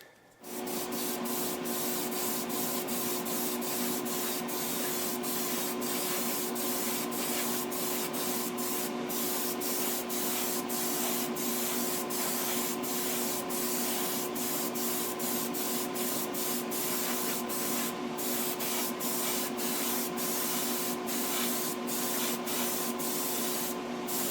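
A spray gun hisses in one long continuous blast, close and loud, as paint is applied to a truck body, fading a brown color to black along the body line; a compressor-like hum runs underneath.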